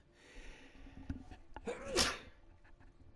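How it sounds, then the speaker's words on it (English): A single sharp sneeze bursts out near the middle, loud and close, framed by quieter breathing and faint background noise. "Damn, sneezed."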